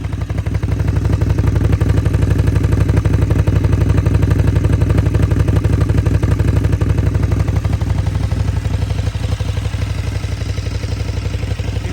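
A motorcycle with a quick shifter and an aftermarket exhaust system idles loudly and steadily up close, with a rattle attributed to the valve stems running through the engine's even churn. No one speaks.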